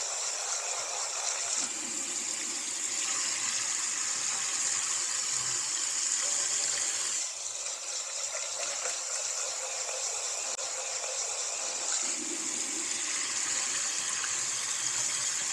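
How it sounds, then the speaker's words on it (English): Tap water runs steadily into a sink while hot water rinses pasta or rice in a home kitchen, a continuous close hiss and gush with slight shifts in flow. "You knock a lot of the starches off with the hot water while you're rinsing them."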